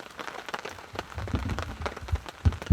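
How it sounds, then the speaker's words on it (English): Rain falls on a tarp sheltering a camp in the evening, a steady broadband patter with a few heavier low thumps of drops landing toward the end, close and fairly quiet. "the rest of our evening is going to be spent sitting under the tarp, hiding from the rain"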